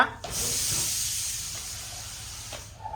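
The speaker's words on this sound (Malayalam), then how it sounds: "ആ കുക്കർ വിസിൽ" Steady loud hiss of a pressure cooker whistle releasing steam in a home kitchen, rising quickly and holding for nearly three seconds before easing off, with faint background clatter.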